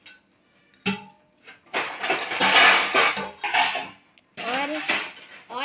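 A metal spoon adds tea leaves to tea, clinking and scraping against the pot in several sharp, close clanks and rattles separated by short pauses.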